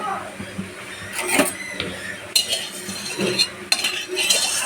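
Metal spatula scraping and clinking around a kadai as oil heats on a gas stove, with irregular stirring strokes and bright metallic clatters, close and moderately loud.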